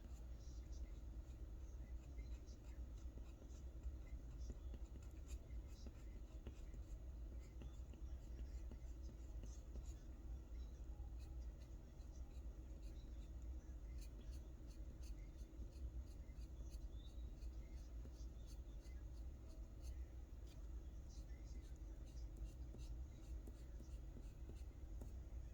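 Steady soft scratching of a Caran d'Ache Luminance colored pencil burnishing over paper while rendering silver and gold, continuous and close throughout with a low background hum.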